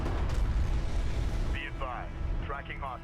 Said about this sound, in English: let's fire off a cruise missile